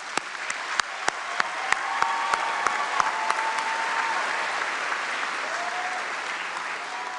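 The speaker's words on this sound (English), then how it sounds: "Please give them a round of applause one more time" A crowd gives a sustained round of applause for the Gardendale High School class of 2026 graduates at their graduation ceremony, beginning with a few sharp individual claps before filling into steady, broad clapping that continues to the end.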